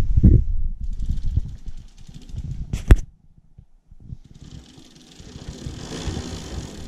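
A freshly cleaned bicycle chain runs with a close mechanical whir and rattle, a sharp click partway through, then a quieter, steady hiss-like spin.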